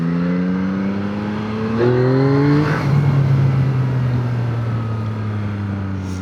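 A Yamaha MT-09 Y-AMT motorcycle accelerates hard to overtake, its engine note climbing loud and close through the gears before settling into a sustained roar with rushing wind.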